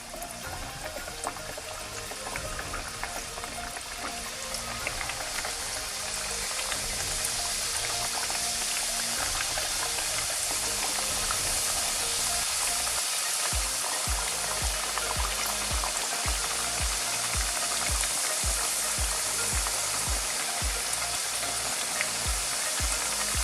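Papri chaat dough pieces frying in hot oil, a dense, steady sizzle and crackle that holds at close range throughout with no voices.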